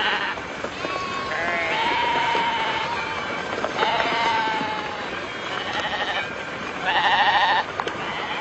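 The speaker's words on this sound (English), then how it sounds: "See, when they get to the slaughterhouse, he decks to one side and the silly sheep go in to get their throats cut." A flock of sheep bleats repeatedly as a Judas goat leads them toward a slaughterhouse, several loud overlapping calls rising and falling over a dense bed of hoof and crowd noise.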